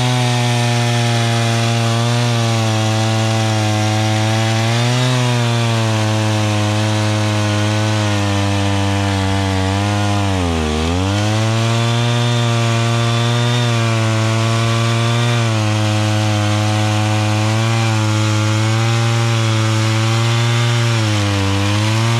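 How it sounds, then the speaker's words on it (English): Chainsaw cutting into a wooden stump that has already been cut, a loud continuous buzzing engine drone that dips briefly under load midway and then recovers, alone with no talk. "So let's make some cuts on some bigger pieces of wood."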